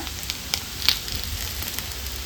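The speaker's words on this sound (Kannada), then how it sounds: "ಕಾಯಿ ಮತ್ತು ಈರುಳ್ಳಿ ಈ ಹದದಲ್ಲಿ ಫ್ರೈ ಆಗುವಾಗ ಸ್ವಲ್ಪ ಕೊತ್ತಂಬರಿ ಸೊಪ್ಪದ ದಂಟು ಇರುತ್ತಲ್ಲ, ಅದನ್ನು ಸೇರಿಸ್ಕೊಳ್ಳೋಣ" Coconut, onion and coriander stems sizzle steadily in a pan for a goat head curry, a soft continuous crackle with a few brief louder pops and light stirring, no voices.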